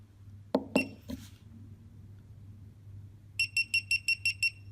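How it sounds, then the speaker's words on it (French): Two sharp clicks and a faint rattle precede a run of seven quick, evenly spaced electronic beeps from a GoPro camera signalling that recording has stopped, close and distinct over a low hum. "et cette petite bip m'indique que la vidéo s'est arrêtée"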